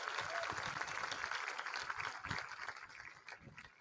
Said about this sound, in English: one more round of applause for our four speakers.